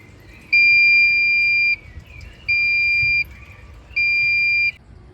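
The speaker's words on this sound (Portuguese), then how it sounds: "para registrar o momento em que o alarme começa a sonar" A car's add-on radiator temperature and coolant level sensor alarm beeps three times in steady, evenly spaced tones, each about a second long and clearly loud over a quiet background.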